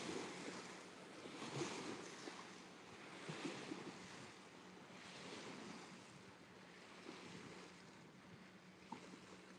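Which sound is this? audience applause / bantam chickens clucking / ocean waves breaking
ocean waves breaking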